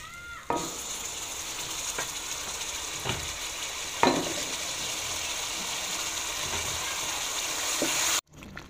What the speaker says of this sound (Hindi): तड़का हमारा तैयार हो चुका है। अब हम इसमें डालेंगे साग।